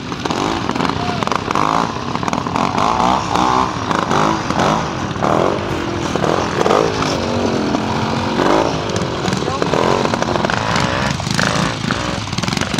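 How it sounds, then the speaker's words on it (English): A BSA Bantam motorcycle runs at a hillclimb event, its single-cylinder two-stroke engine buzzing and revving continuously nearby while someone speaks over it throughout. "Alan Mills, BSA Bantam."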